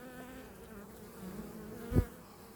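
A honey bee buzzes steadily close by, a low droning hum with a brief louder burst as it moves near, no voices present.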